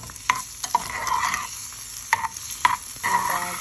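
Chili peppers, bell peppers and minced garlic frying in oil are stirred in a pan, a soft steady sizzle broken by several sharp scrapes of the spoon, close and alone.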